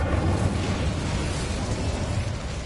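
An Incendio fire spell is cast in Hogwarts Legacy inside a mine near a boiler, giving a dense, roaring whoosh of flame that stays loud and steady throughout without a break.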